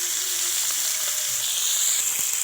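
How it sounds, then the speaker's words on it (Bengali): Tilapia fries in a pan with a steady, close hissing sizzle and faint spatters, alone and without any talking. "দেখুন মাছটাকে ভালো করে ভাজা হচ্ছে"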